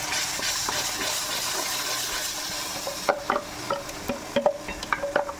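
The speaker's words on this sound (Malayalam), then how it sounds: "ഇത് ചൂടായി വരുമ്പോൾ ഇതിലേക്ക് നമ്മൾ അരച്ചുകൊണ്ട് വന്ന സബോള ഇഞ്ചി പച്ചമുളക് വാട്ടിയത് അരച്ചുകൊണ്ട് വന്ന ഇതിലേക്ക് ഇടുക" Ground onion, ginger and green chilli paste hits a hot pan for chicken kurma, with a steady hiss of frying. It then gives way to close, irregular scraping and clinking of a spoon against the pan, with no talk.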